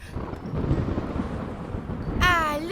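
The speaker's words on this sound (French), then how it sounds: "Ah, le tonnerre." Cartoon thunder rumbles low and steady for a couple of seconds beneath rain-like noise, close and moderately loud, followed by a brief warbling tone at the end.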